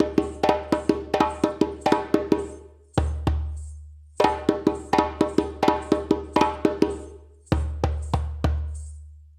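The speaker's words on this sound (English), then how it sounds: "I'd like to introduce you to a break for the rhythm Fe." A djembe plays the break for the West African rhythm Fe, a sharp pattern of slaps and tones mixed with deep bass strokes. It comes in two matching phrases divided by a short pause, loud and near, with no talking.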